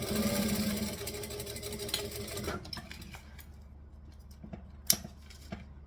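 A sewing machine back stitching through fabric, its steady motor hum running for about two seconds, then stopping and leaving a few sharp clicks and taps.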